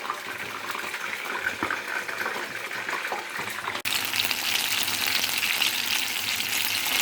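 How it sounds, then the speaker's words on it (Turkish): Eggplants fry in hot oil with a loud, steady crackling sizzle that jumps louder about halfway through, heard up close with no talking. "Patlıcanlar kızardı."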